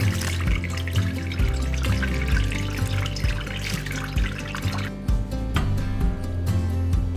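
Fat drains from cooked ground beef into a pot below, a continuous close trickle and drip of liquid that carries on for several seconds with no talking.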